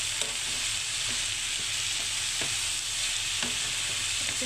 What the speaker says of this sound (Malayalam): എന്നിട്ട് നമുക്കിതിനെ നന്നായി മിക്സ് ചെയ്ത് കൊടുക്കാം